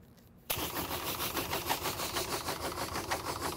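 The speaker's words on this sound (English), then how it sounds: "This one's chugging right now because the nozzle's too small." A CAFS foam unit pump chugs hard through a nozzle that is too small, starting abruptly and then running as a loud, close, rapid pulsing rattle that holds steady to the end.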